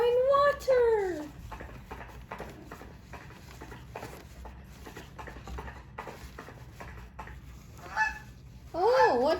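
A big goose honks loudly in rising and falling calls at the start and end, with soft footstep-like patter and a voice speaking in between.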